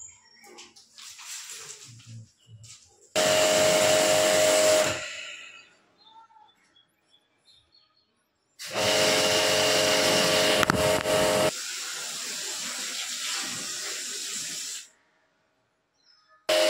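A jet pump sprays water in two loud, hissing bursts of a few seconds each while a Godrej 1.5 ton AC with a cooling problem is serviced, with quieter handling noise in between.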